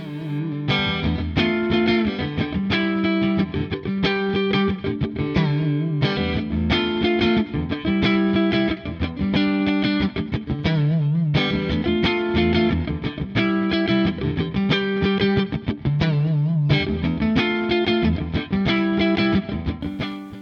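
Heavily distorted electric guitar, an Ibanez GRX120SP played through a Fractal FM9 on the Triple Crest preset, plays chugging, rhythmic riffs with sustained chords, loud and continuous with no other sounds.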